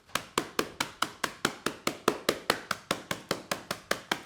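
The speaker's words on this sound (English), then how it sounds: "So, you want to bash your cream crackers." Cream crackers are bashed into coarse crumbs for a crispy pork coating, heard as about twenty sharp, close thumps. The thumps come in a fast, steady rhythm with no talking.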